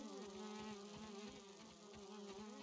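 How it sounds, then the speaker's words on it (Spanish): Buzzing flies in the survival video game Grounded form a continuous droning hum with wavering pitch, steady and close throughout, with no speech over it. "Las moscas estas."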